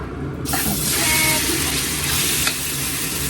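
Marinated beef hits very hot, rippling oil in a pan with a sudden loud sizzle that holds steady as a broad hiss, with a faint clink partway through.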